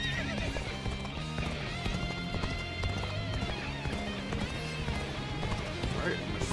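Horse hooves clip-clop steadily at a gallop in the Dynasty Warriors: Origins video game, set against a dense battlefield music bed with game voices over it.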